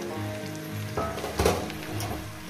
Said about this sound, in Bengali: মাছের মাথাটাকেও আমি দিয়ে দেবো আস্তে আস্তে করে রান্না করার জন্য